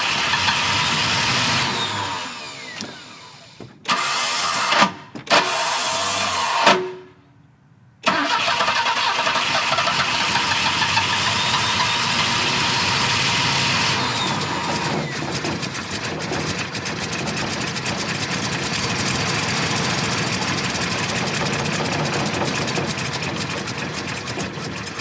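A 1969 Volvo 164 engine cranks in broken bursts with brief gaps, then catches and runs steadily at a loud, close idle for the rest of the clip with no talk.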